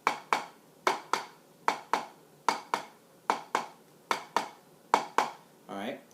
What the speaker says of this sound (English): the next rudiment is called the double stroke roll